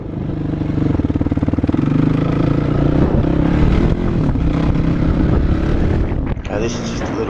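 A 2021 Kawasaki KLX450R dirt bike ridden along a dirt side track in South Australia, its engine revving and pulsing loudly up close, with clattering and a voice talking over it.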